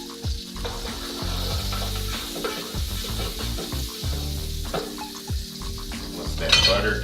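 Earth Balance vegan butter melting in a pan sizzles steadily and up close, with a spatula stirring and scraping against the pan in repeated strokes, and no talking.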